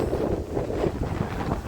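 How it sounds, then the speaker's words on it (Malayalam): Strong wind buffets the microphone at a hilltop cave entrance, a loud, continuous low roar with gusty rumbling and no voices. "മച്ചാന്മാരെ നല്ല കാറ്റുണ്ട്"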